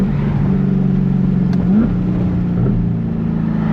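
A Chevrolet Corvette C8 fitted with a titanium exhaust settles into a steady, deep idle-like rumble close by, with a couple of brief pitch bumps and crackling burbles, no voices.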